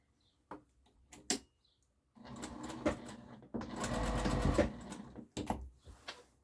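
Close by, a domestic sewing machine stitches a box around an opening while sewing a harvesting apron: a few isolated clicks, then two steady mechanical runs with brief stops between them, and no voices.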